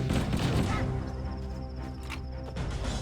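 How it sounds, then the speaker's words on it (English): An assault rifle fires in Halo: Combat Evolved at medium range, a rapid burst of close, loud automatic shots that thins out and then picks up again near the end. "putting the assault rifle to use at medium range"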